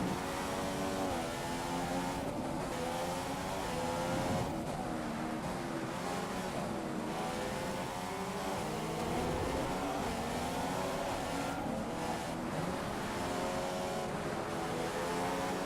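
Formula 1 race cars in the F1 2015 video game during a Hungary race, with a continuous, loud engine whine that rises and falls through gear changes and steady racing.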